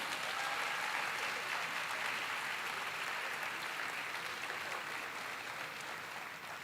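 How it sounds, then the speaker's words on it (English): Ceremony audience applauding the lighters at a university matriculation and welcome ceremony, a broad sustained roar of many hands clapping that stays even and slowly eases near the end. "Big applause to all our lighters."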